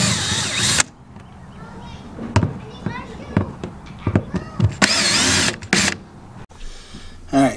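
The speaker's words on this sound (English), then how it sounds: "Just gonna remove all the screws." A power drill backs screws out of an RV water heater panel in short whirring bursts, loud and close, separated by pauses with clicks and handling noise, while people speak in the background.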